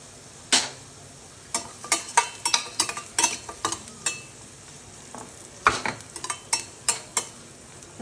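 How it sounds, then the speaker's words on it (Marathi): Grated jaggery with a spoonful of asafoetida is stirred and sautéed in a pan for a sweet-sour raw mango pickle, giving repeated close scraping and clinking strokes of a spoon against the pan over a soft, steady sizzle. "हा गूळ थोडासा वितळेपर्यंत आपल्याला परतायचा आहे"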